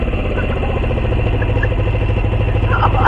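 A motorcycle engine runs close by with a steady, even throb that holds at a constant pitch for the whole stretch, without any clear rise into a rev.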